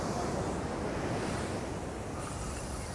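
Ocean waves and surf at a beach during drone fishing, a steady loud wash of breaking water with wind buffeting the microphone, continuous for three seconds with no talk.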